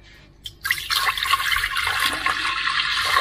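Water running into a pot for blanching tomatoes, starting after a couple of clicks and settling into a steady, close gushing pour that continues to the end.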